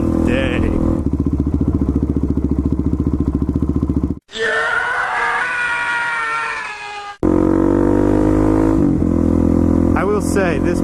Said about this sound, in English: I will say, this pipe is definitely loud.